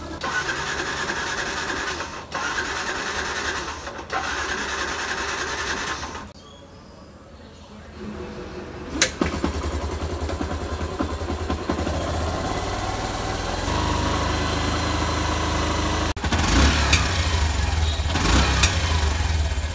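A motorbike engine starts after a quiet gap and settles into a steady, close idle, with faint rattles and a few revs rising toward the end.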